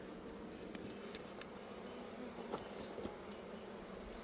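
Faint, constant buzzing of honeybees close by at a mini mating nuc, a soft droning hum with small flickers of individual wingbeats.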